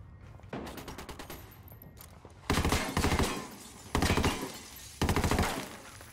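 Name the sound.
sniper gunfire in a Ghost Recon video game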